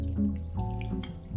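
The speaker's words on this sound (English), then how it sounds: "We top it with sparkling water," Sparkling water poured over 1.5 ounces of raspberry shrub to top a Roffignac, a New Orleans cognac cocktail: a steady close pour with faint fizz and splashing that runs for over a second without talk.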